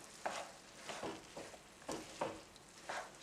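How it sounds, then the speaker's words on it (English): Red quinoa is folded into a pan of three beans and asparagus: soft, quiet scraping stir strokes repeat about twice a second over a faint sizzle. "Let's fold that baby in"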